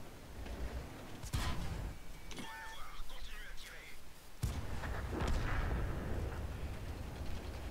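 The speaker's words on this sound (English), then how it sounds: "Thank you, artillery." Artillery shells land in a tank battle game in two heavy booming impacts, the second longer and rumbling on, under continuous commentary from a man.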